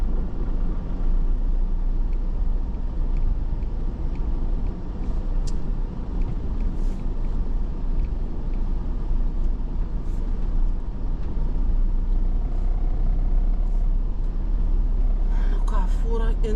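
A truck drives up a snowy hill road in winter, its engine a steady, close rumble under continuous cab noise. A few brief clanks come near the end.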